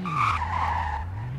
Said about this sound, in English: It's also actually testing its drifting.